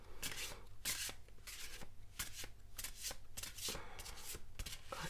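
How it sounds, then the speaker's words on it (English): Tarot cards being shuffled by hand during a card reading, a steady run of crisp riffling and slapping bursts repeating close to the mic for several seconds, with no talking. "I have to shuffle once more."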